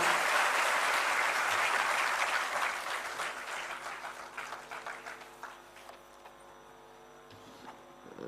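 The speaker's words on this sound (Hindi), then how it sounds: "आप सबकी जोरदार तालियों के प्रणाम के साथ" An award ceremony audience for meritorious students breaks into hearty applause, dense and full at first, then thinning into scattered claps that fade over several seconds.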